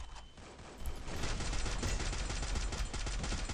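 Gunfire in the Free Fire video game comes as a dense, continuous burst of rapid shots, loud and close, holding steady for a few seconds with no talk over it.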